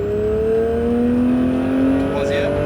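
A Porsche 911 GT3 engine accelerates on a racing circuit, loud rising tonal whine climbing steadily in pitch as the car gains speed, heard close from inside the car with a brief shift near the end; no words spoken.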